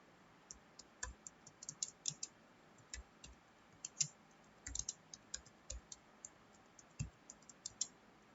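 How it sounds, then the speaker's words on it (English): Someone types an HTML program in Notepad on a computer keyboard, producing irregular sharp key clicks and occasional heavier thumps, close and fairly quiet against a faint background hiss. "now we'll type the program"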